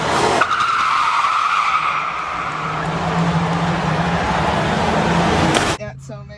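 A car engine catches and keeps running with a loud, steady roar that lasts several seconds before cutting off abruptly, while people talk over it.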